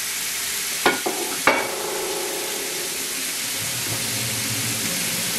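Steak seasoned with salt, pepper and olive oil sizzles in a hot pan with a steady, dense hiss, marked by a few quick clicks and spatters near the start.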